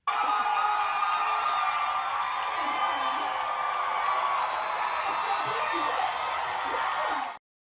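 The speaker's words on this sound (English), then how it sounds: "Just listen to the crowd days after she was censured." A political rally crowd cheers for a Montana lawmaker days after her censure, a dense sustained roar of voices with scattered whoops and shouts, loud and continuous until it cuts off abruptly.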